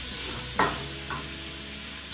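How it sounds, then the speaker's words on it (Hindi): A sprouts salad with finely chopped tomato and capsicum is mixed with a spoon, producing a couple of brief scraping stirs over a steady background hiss. "अब इन सबको अच्छे से मिक्स कर लेंगे।"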